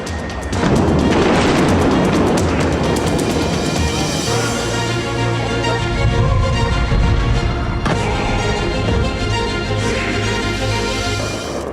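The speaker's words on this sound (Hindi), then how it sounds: "सायरन की गूंजती आवाज के बीच आसमान धमाकों से दहलता नजर आया।" Deep booming explosions from an Israeli missile attack on Tehran rumble one after another over a constant loud roar, with crashing bursts scattered through, dense and heavy throughout.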